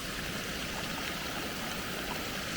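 Water flows steadily along the Manchester, Bolton and Bury canal near an overflow into the River Irwell, a constant broad rushing wash that holds at a moderate, even level throughout, with no voices.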